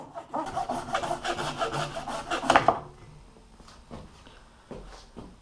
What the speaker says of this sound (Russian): сейчас прижму струбцинкой и буду потихоньку пилить